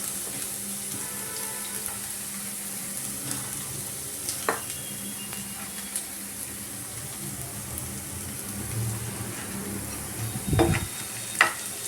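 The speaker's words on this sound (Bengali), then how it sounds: "এবার আমি গাজরটা দিয়ে দিচ্ছি।" Carrots frying in a pan with onions that have turned translucent, a low steady sizzle with a few sharp scraping stirs and clatters near the end, no talking over it.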